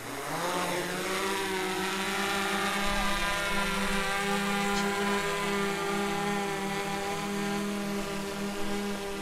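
A DJI Mavic drone lifts off carrying a suspended avalanche transceiver, its rotors building a loud, steady high-pitched whine with rising harmonic tones that hold close and constant throughout, no voices.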